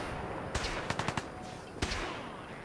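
Distant gunfire from a battle in the video game Fallout 4, a few sharp scattered shots with a quick burst of four in the middle, heard faint and far off over steady background noise.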